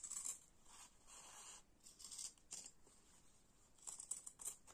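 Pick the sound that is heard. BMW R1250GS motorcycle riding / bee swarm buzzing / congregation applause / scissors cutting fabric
scissors cutting fabric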